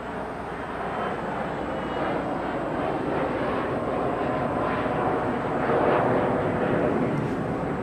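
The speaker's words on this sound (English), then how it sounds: "We got Lufthansa landing on 25 right today." A Lufthansa airliner arriving from Munich lands on runway 25 right in Los Angeles, a loud, steady broadband engine roar that swells slightly toward the end, with no talking.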